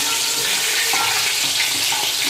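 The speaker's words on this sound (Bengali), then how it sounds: "এখন অল্প অল্প করে দিয়ে মাছের কাঁটাগুলো ভেজে নেব" Salted, turmeric-rubbed bhetki fish bones fry in hot oil with a steady, dense close sizzle and crackle throughout.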